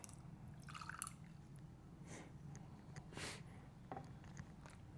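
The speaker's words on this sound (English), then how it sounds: "And then we'll just pour the whiskey right over that." Whiskey trickles and drips over ice in a glass for an Old Fashioned, a faint, close liquid sound with a few soft splashes against quiet room noise.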